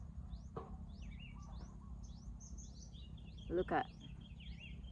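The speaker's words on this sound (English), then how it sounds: "you hear those? The birds singing" Birds chirp and trill outdoors in a quiet natural setting, with several short, high calls scattered across the moment over a steady low background hum, plus a brief burst of other sound near the end and a short spoken phrase.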